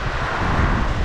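Storm wind gusts around an off-grid homestead shed, a loud, continuous roar with heavy buffeting rumble, close and unbroken for the whole second.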